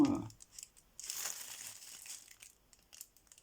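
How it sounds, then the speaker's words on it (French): Crisp crinkling and rustling of tissue paper, a brief burst, then softer scattered crackles, close and fairly quiet. "C'est très joli, papier de soie comme ça."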